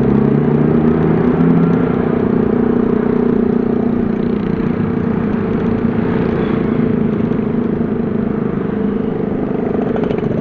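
A car engine idles while queuing in morning city traffic in Bukittinggi, West Sumatra, a steady low rumble that stays near and continuous with faint background traffic noise throughout, with no talking.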